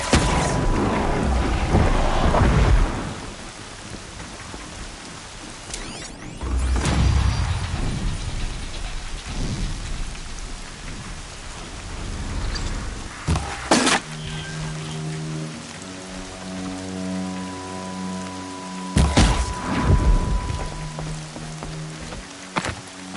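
Steady video game rain falls throughout, with several loud bursts like thunder or heavy impacts, and a low droning hum emerging in the latter half.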